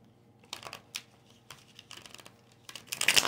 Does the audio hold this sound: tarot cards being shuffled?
yes